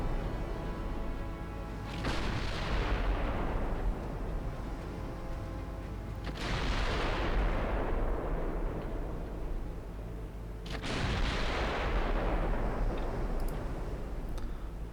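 Heavy naval guns fire high-explosive shells in the Ultimate Admiral naval game. Three booming salvos come several seconds apart, each a deep blast that rolls out into a long fading rumble.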